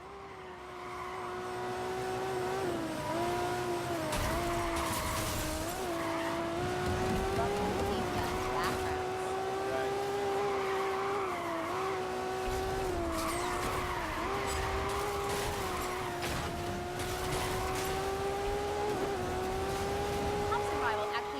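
Racing gameplay from Need for Speed Rivals: a loud, continuous engine roar rises and falls with gear changes, mixed with tire squeals and bursts of action, steady throughout with voices faintly mixed in.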